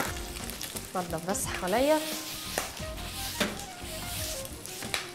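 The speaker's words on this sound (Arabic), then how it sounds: "مش محتاج ثواني عشان يتشوح مع الثوم" Broccoli sautéing with garlic in a hot pan sizzles steadily, with clinks and scrapes of stirring; someone speaks briefly over the frying.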